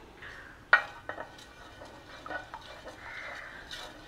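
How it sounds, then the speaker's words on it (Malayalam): Palm jaggery syrup being stirred in a pan, with a sharp utensil clink against the metal followed by soft scraping and light sloshing strokes, fairly quiet and close. "പതുക്കൊന്ന് ഇളക്കി കൊടുക്കുക കേട്ടോ."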